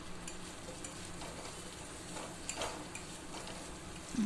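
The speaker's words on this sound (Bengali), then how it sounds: "রসুনটাকে একটু ভালো করে ভেজে নিই" Spiced meat with ginger, garlic, chili powder and turmeric fries in a pan, giving a soft steady sizzle with occasional stirring scrapes and light clicks, fairly quiet and with no one talking.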